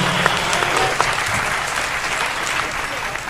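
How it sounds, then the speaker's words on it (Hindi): Dense crowd applause for the comic poet Kamta Makhan at a Hindi humour poetry gathering: a loud, steady wash of clapping with a few sharper claps on top, lasting the full few seconds. "आगे से पीछे तक पुरजोर तालियां भाई कामता माखन के सम्मान में बजें"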